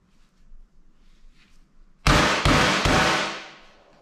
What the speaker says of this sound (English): Guys, do not hit this with a metal hammer. Just use something soft like a mallet or something.